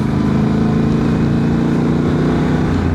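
A Honda Transalp 750 motorcycle with a remapped ECU pulls hard in third gear, its engine a loud, steady, gritty drone with wind rush, held near and continuous throughout.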